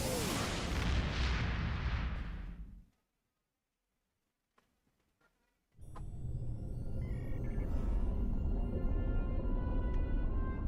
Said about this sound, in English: What's exploding around here?